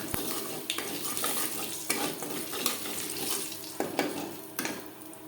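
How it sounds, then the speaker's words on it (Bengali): Whole cumin seeds crackle and sizzle in hot oil in a kadai, used as tempering for a vegetarian pointed gourd curry; a steady close frying hiss with intermittent sharp pops and stirring scrapes, no voices. "দশ পনেরো সেকেন্ড জিরে ভেজে নেওয়ার পর"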